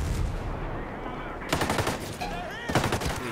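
Light machine gun fire in Ghost Recon Breakpoint, two sharp bursts of rapid automatic shots breaking a quieter stretch, loud and close.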